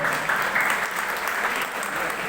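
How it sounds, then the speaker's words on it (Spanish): Steady applause from a church congregation fills the room for the whole stretch, dense and even, with a faint murmur of voices underneath. "Le damos un aplauso a nuestros hermanos."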